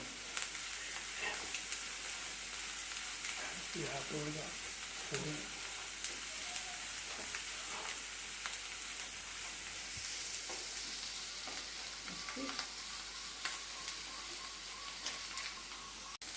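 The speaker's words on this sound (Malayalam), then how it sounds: "അപ്പോൾ നമ്മുടെ മഷ്റൂമൊക്കെ ഒരുവിധം വെന്തിട്ടുണ്ട്." Mushrooms for soup fry in a pan with a constant close sizzle, broken by repeated scraping and clinking strokes from stirring.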